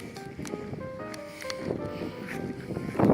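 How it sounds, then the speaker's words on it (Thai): Strong wind gusts buffet the microphone outdoors in a blustery, steady rush that swells louder toward the end, with faint tonal sounds underneath. "นี่ผมต้องใช้มือบังนะครับเพราะลมแรงมาก เมื่อกี้มาแรงนะครับ"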